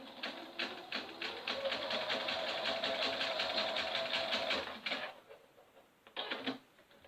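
A sewing machine stitches a fabric rag doll in a rapid, even mechanical patter for about five seconds and stops. After a pause, a short second burst of stitching follows, close and fairly quiet.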